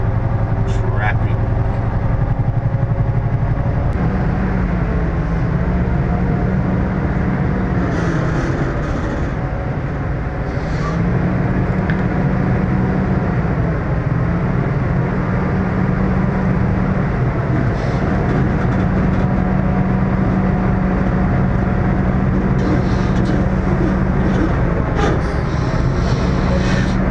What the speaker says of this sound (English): Houston, morning, rush hour, traffic.